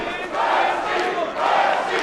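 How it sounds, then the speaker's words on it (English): A large arena crowd roars in support of fighter Buirski during a combat sports bout, a loud sustained wall of shouting and chanting that surges in waves. "Crowd getting behind Buirski now"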